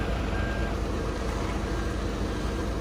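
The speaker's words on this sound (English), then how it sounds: "the next truck's here" A concrete truck reverses on a building site. A loud, steady engine rumble runs throughout, with a faint reversing beeper near the start.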